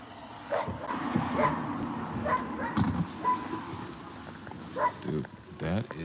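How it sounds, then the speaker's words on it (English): A dog barks, yips and whimpers in short bursts close by, mixed with people talking over it. "that is a dangerous dog."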